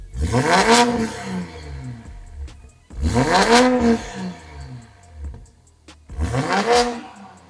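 A Toyota GR Supra fitted with an HKS Turbo Muffler is revved three times in quick succession, each blip rising sharply to a loud raspy roar and then falling back to idle, heard close up.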